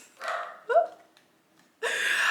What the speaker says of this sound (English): did you hear my dog?